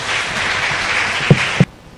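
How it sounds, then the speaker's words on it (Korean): Audience applause opens a lecture: a dense, steady wash of clapping from a seated crowd that holds evenly, rises with a couple of sharper bursts near the end, then cuts off abruptly into near silence. "여러분들의 뜨거운 박수로 이번 강연을 시작하겠습니다"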